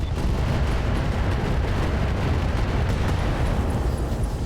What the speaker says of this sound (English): Ammo explosion, multiple engine crits, in fact.